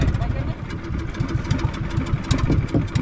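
A fishing boat engine running, a steady mid-pitched mechanical drone with rhythmic pulsing and some clanking, moderately close, mixed with background commotion.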